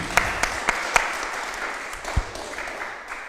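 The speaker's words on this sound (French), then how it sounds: "Merci beaucoup, Corinne Lepage, qu'on peut applaudir aussi." A conference audience at a Cap21 ecology colloquium applauds, opening with a few sharp, separate claps that thin out and fade into a soft, scattered patter.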